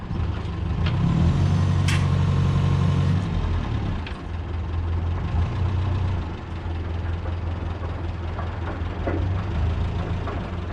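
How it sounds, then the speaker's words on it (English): A forklift engine drones and rumbles steadily as the machine drives up onto a trailer with a hydraulic deck, a loud continuous low hum with small shifts in pitch and faint clanks. "all Mike has to do is drive the forklift up on it and put it where we want it."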